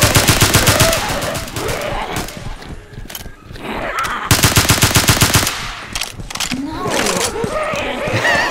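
Gunfire in Left 4 Dead 2, loud rapid bursts of automatic shots in rattling volleys with short gaps, mixed with voices talking between the bursts.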